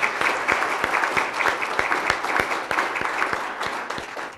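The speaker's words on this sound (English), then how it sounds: "let's hear another round of applause." A school awards-forum audience gives steady, moderately loud applause, with individual claps audible in a regular rhythm throughout and no speech over it.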